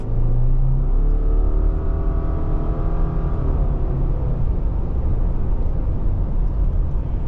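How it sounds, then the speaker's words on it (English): A 2024 Subaru Crosstrek Sport's naturally aspirated flat-four accelerates from a standstill, its engine note climbing smoothly and steadily in pitch under a loud road rumble before settling into a steady drone. "good pickup out of this naturally aspirated flat 4"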